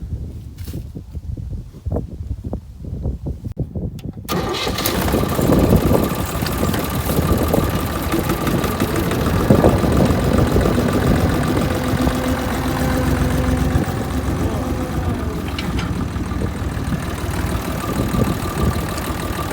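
A vehicle engine left idling outdoors in cold weather while manure is being hauled, starting after a few seconds of clatter and then holding a steady, close, continuous low rumble to the end, with no talk.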